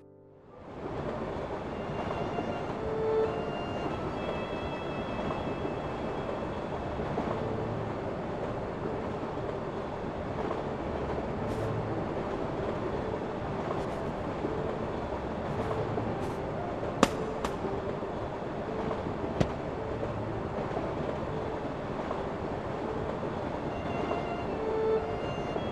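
Train rolling along rails in the video game Kingdom Hearts II, a continuous steady rumble and rushing noise throughout, with occasional faint clicks and clacks.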